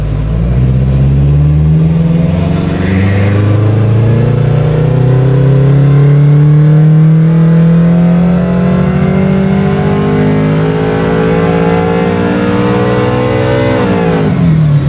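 A car engine with dual variable cam timing revs hard through a full dyno tuning pull, a loud continuous roar climbing steadily in pitch for most of the run before dropping off sharply at the end.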